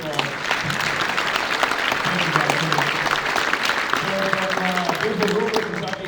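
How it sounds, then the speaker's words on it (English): Audience applause fills a live podcast taping at the GIE+EXPO trade show, steady dense clapping from a crowd for about six seconds with faint voices and music tones underneath. "Round of applause, please."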